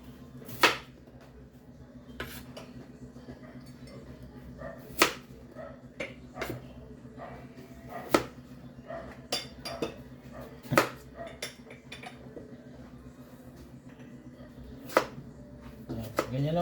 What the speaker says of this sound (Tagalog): Ganyan lang po paghiwa ng patatas. Pa-cubes lang.